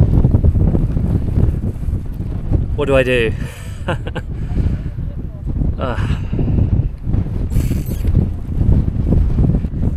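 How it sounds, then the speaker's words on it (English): Strong wind on a sandy Corfu shore buffets the microphone in a constant loud roar, with a person briefly speaking and some clattering underneath. "it's super windy now"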